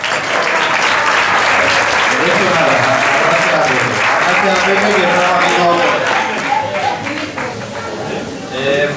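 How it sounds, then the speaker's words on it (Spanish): Loud, sustained applause fills a restaurant dinner for a historic vehicle club, steady clapping from a large group with a few voices mixed in, fading slightly near the end. "Un aplauso fuerte para él."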